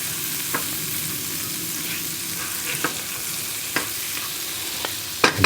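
Dill fries in a pan for shrimp linguine with Alfredo sauce, a steady loud sizzle broken by a few sharp stirring taps.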